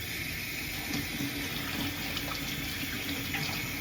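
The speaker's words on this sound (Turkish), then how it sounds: "Tamam ben şimdi elimi yıkayayım" Tap water runs steadily into a kitchen sink while hands are washed, a constant close splashing stream with no pauses.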